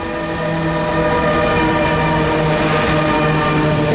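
Moroccan ONCF train passing close by, its horn sounding in a long steady tone over the loud continuous rumble of the rail cars, without talk.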